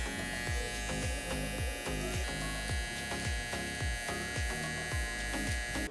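An electric hair trimmer lines up the corners of a mid skin taper on long hair, buzzing loudly and continuously up close, with a rhythmic pattern of short repeated strokes.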